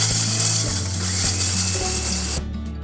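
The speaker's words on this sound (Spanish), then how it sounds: "Pongo las cáscaras en la procesadora." A food processor grinds dried eggshells into powder with a loud, close, steady whirring roar and a rattling, gritty texture, the motor pitch shifting slightly before the machine cuts off abruptly near the end.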